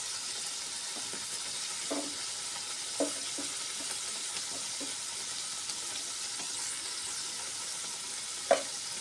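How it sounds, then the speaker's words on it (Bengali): Spice paste with coriander powder, cumin powder and salt sautéing in a pan for a baby banana kofta curry, giving a steady soft sizzle with occasional faint clinks of stirring. "ধনে গুঁড়ো জিরে গুঁড়ো পরিমাণ মতো লবণ দিয়ে ভালো করে কষিয়ে নেব"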